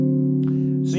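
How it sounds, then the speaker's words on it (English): A sustained dominant seventh chord rings out on bass guitar, its low notes holding steadily for about a second while a brief scrape sounds partway through and another near the end. "the chord sounds like this"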